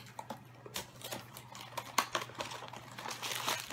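Crinkly plastic rustling and tearing in short bursts, close by, as a small Titans Doctor Who blind box package is pulled open.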